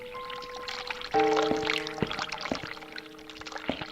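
A hot water tap runs in a horror video game, a steady pouring stream that stays continuous under tonal game music, moderately loud and close.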